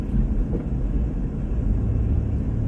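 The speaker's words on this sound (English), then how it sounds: "Oh, not the train coming." A train passes nearby, a loud, steady low rumble that holds for a few seconds with no voices over it.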